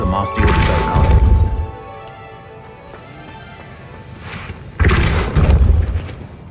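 Two Hogwarts Legacy spell blasts, Confringo then Depulso, each a loud booming crash with a heavy thud, the first near the start and the second about four seconds later, separated by a quieter stretch of ambience.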